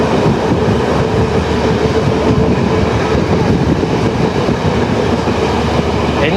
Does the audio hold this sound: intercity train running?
yes